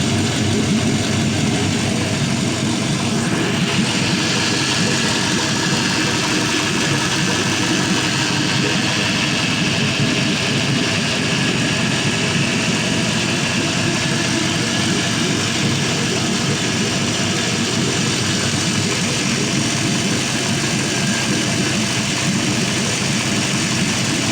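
A 5.3L truck LS V8 engine runs on a test stand, a loud, steady, close idle that holds the same level throughout with no talk.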